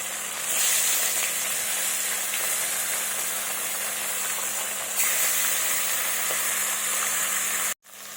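Pieces of a large fish frying in oil, a loud, dense, continuous hiss with a low steady hum underneath and a sudden brief cut near the end, no voices.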